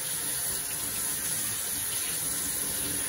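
Steady running tap water splashing over a red barracuda fish being rinsed in a sink after gutting and gill removal, a constant close hiss with no talk.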